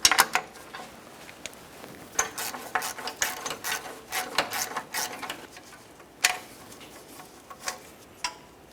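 A ratchet with a socket clicks on the starter mounting bolt of a 1994-2002 Dodge Ram 2500, giving a series of close, irregular ratcheting bursts and scraping with short pauses between them.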